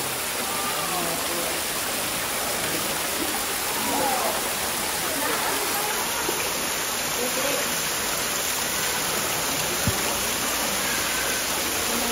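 Water flows steadily in a Philippine church setting, a constant dense hiss and wash that holds unchanged throughout, close and fairly loud, with faint voices underneath.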